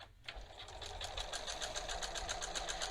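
A sewing machine runs steadily through a very narrow zigzag stitch on a waistband facing with bias tape, its fast, even needle beat close and continuous after a brief quiet start.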